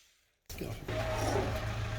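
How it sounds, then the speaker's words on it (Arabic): An electric drill starts abruptly after a short silence while a stone bread oven is being assembled, then runs in a loud, steady whine close by. "هسه نجيب الدرايل"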